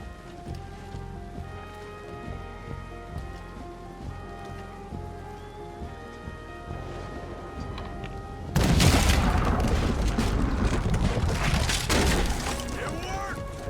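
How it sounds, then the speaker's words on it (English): A cannon fires in Red Dead Redemption 2, a sudden loud broadband blast at mid-clip that leaves a dense, rumbling roar of debris and crackle behind it, following a stretch of music and game ambience. "What about that cannon?"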